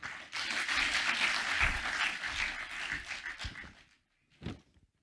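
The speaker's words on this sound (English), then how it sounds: "Let's give him another round of applause" An audience gives a speaker at a public address a round of applause, dense steady clapping for about four seconds that fades out, followed by a single soft thump.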